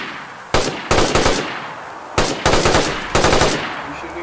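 Rapid bursts of automatic gunfire from the video game DayZ on the Livonia map, several loud close volleys of fast repeated shots separated by short pauses, with little talk over them.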